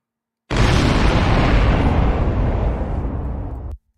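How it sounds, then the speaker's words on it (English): A sudden explosion sound effect bursts in loud and full, rumbling deep and noisy for about three seconds before cutting off abruptly, with no voices. "drop the bomb. Damn it, where my explosion?"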